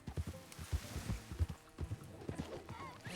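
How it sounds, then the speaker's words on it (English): Hooves of a horse in Red Dead Redemption 2 clip-clop away in an uneven run, fairly close and moderately loud, with a brief whinny-like sound mixed in and no talking. "Por que meu cavalo tá fugindo agora também?"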